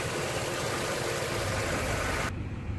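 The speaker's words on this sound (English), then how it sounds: "Cooling fans have engaged" A car engine idles steadily with its cooling fans running, a constant broadband whir and hum that cuts off abruptly near the end, with no voices.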